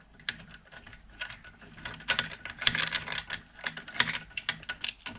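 Four screws on a new MTD brush cutter being unscrewed with the included wrench, giving a run of quick ratcheting clicks in uneven bursts, close and fairly quiet, with no talking.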